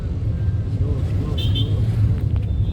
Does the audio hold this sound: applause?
no